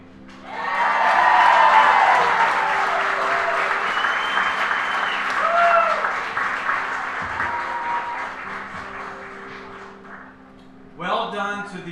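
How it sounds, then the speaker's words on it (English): Guests at a wedding reception break into loud applause with scattered cheers that swell early and slowly thin out, before a speaker begins talking near the end. "can we get a round of applause for the officiant Hayden?"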